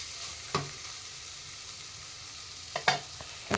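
Garam masala stirred into a frying chikkudukaya tomato curry, with a soft steady sizzle broken by a few sharp scraping clinks of the spoon against the pan, nearby, without talk.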